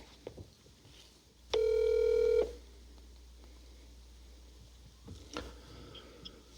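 A phone call being placed: a steady dial tone sounds for about a second, followed by faint clicks and soft background noise, with no talking.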